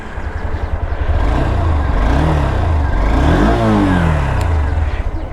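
A Honda Hornet 2.0 motorcycle engine runs close by with a smooth, loud exhaust note, the pitch swelling and falling through a couple of throttle blips before settling back to idle.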